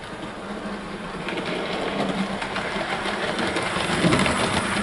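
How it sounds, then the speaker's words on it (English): A Hattons SE&CR P Class model locomotive hauls a rake of suburban coaches along the track, giving a soft, continuous mechanical whirr and rattle that swells slightly louder over a few seconds, with no voices. "We've now got the P Class hauling a second train, and this time it's pulling the rake of suburban coaches."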